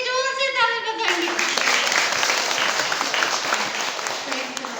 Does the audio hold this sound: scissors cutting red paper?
no